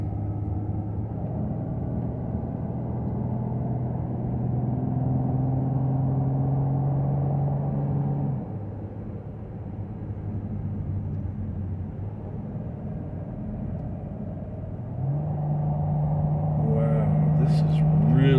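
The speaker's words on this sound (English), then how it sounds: "This car has a 350 engine in it. same as the Jeep, and it's working hard to go up here." A car with a 350 engine strains up the Cottonwood Pass road near San Isabel National Forest, giving a steady low drone heard from inside. The engine note rises and falls, dipping midway and then swelling again toward the end.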